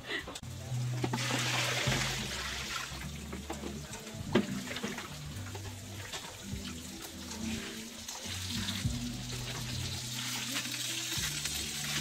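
Shellfish sizzle on a grill, a continuous close crackling hiss that runs throughout, with people talking over it.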